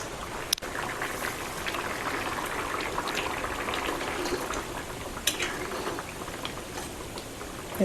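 A pot of Konkani tender-cashew and potato curry simmers with a soft, continuous bubbling hiss, joined by a couple of faint clicks and light knocks, no voices.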